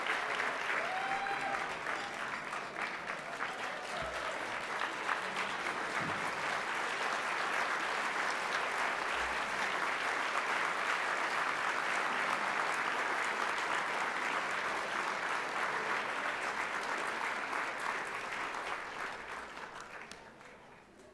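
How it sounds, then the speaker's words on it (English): A standing ovation for a 105-year-old guest at the 41st Annual Great Valentine Gala: sustained, dense applause from a large audience at steady loudness for about twenty seconds before fading out at the end. "I think she deserves a standing ovation."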